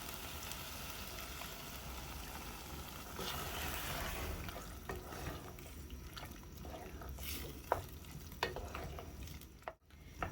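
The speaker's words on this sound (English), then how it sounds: "I'll then add in the milk." Milk poured into a simmering pot of thick bean stew, the liquid hitting hot food with a steady fizzing sizzle and stirring clatter, a few sharp utensil knocks near the end, no voices.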